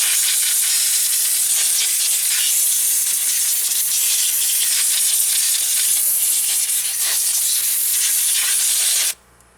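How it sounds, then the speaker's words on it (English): Compressed air blasting debris off a Volvo S70 engine, a loud, steady, harsh hiss lasting about nine seconds before cutting off abruptly. "I'm going to blow off all the debris quickly first"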